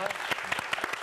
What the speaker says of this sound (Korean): 함께해 주신 두 분에게 박수 부탁드리겠습니다